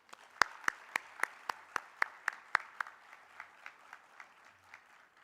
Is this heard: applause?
yes